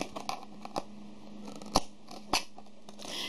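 Scissors snip out a piece of a Kracie Popin Cookin burger kit, a few close, crisp cuts with small crinkles of packaging between them.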